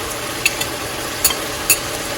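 Spices and garlic fry in a pot for Somali beef suqaar, a constant close sizzle broken by three quick scraping clicks of a stirring utensil.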